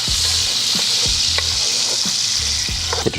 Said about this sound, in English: Now that I got my oil back up to temp, I always start, anytime I'm doing anything, I start with my onions first